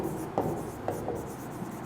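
Chalk or marker writing on a classroom board, heard as faint scratchy strokes with a few light taps over a soft room hum.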